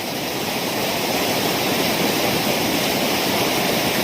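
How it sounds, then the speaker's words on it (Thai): Heavy rain pours down at an outdoor fishing spot, a loud, unbroken roar of water hitting the surroundings that holds steady from start to finish with no talking. "โอ้ย ฝนกระตกมากครับ"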